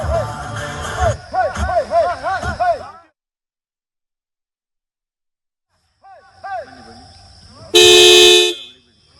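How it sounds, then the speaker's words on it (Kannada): Vehicle horns blaring near a jeep race in a village at Sakleshpur, Hassan, as people scare off a lone wild elephant; shouting and wavering cries come first, then after a silent gap a long loud horn blast. "ಜೋರ ಕಿರಿಚಾಡಿ ಹಾರ್ನ್ ಮಾಡಿ ಓಡಿಸಿದ್ದಾರೆ ಜನ ಅಲ್ಲಿ ನೋಡಿ"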